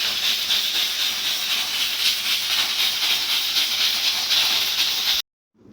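A pressure cooker cooking dal vents steam in a loud continuous hiss that holds steady for about five seconds and then cuts off abruptly.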